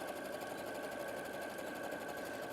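A sewing machine stitches a zigzag while its stitch width is widened mid-seam, giving a close, steady and continuous mechanical whir with no pauses.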